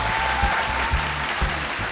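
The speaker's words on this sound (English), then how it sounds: "another round of applause for Tahila Benoba" Applause from a crowd at a televised vocal contest, a steady rush of clapping with a low musical backing underneath and a faint tone near the start.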